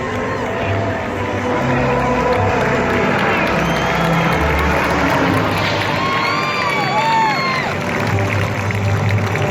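A large outdoor crowd at a night air show gives loud, sustained applause and cheering for the Black Daggers parachute jumpers after a landing with a POW-MIA flag, with whoops and children's shouts rising above the steady clapping.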